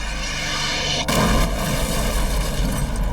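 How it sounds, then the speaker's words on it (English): A bomb blast rocks an FBI office building in the evening, a sudden loud broadband boom that hits after a low rumbling lead-in and then lingers as a dense, sustained roar with no voices. "A huge explosion rocks the FBI's office."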